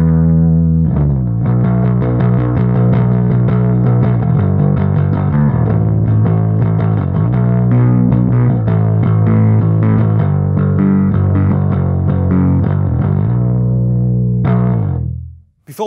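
Bass guitar, a Thunderbird, played through an Orange Terror Bass head into an Orange OBC112 cabinet with gain adding distortion; loud gritty sustained notes ring out in a steady line before cutting off at the end.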